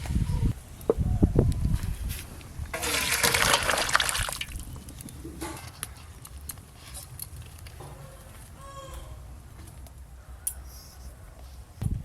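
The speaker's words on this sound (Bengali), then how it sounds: "আলু পটল দিয়ে জ্যান্ত মাছের একদম পাতলা ঝোল কিন্তু হয়ে গেল, স্বাস্থ্যকর ঝোল। এবার ঢেলে নেব।" Thin fish curry with potato and pointed gourd, made with freshly caught pond fish, poured out of the pot: a close, gushing liquid splash lasting a second or so, followed by quieter drips and kitchen clatter.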